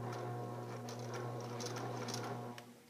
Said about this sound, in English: You're going to go forward a couple stitches, and then you're going to back stitch.